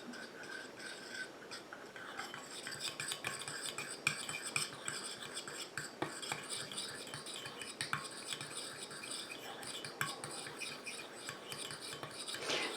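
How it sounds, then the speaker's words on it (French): Oil being gradually whisked into a sugar gel to make a face cleanser, a close continuous scraping and rubbing of utensil against bowl with small irregular clicks, steady and fairly quiet. "Je vais incorporer progressivement mon huile à mon géli sucre."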